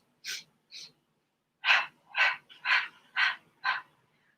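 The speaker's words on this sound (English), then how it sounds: "So instead of doing percussive breathing like this" Percussive Pilates breathing: seven sharp, forceful breath bursts, two spaced ones followed by a quick regular run of five, close and clear with silence between.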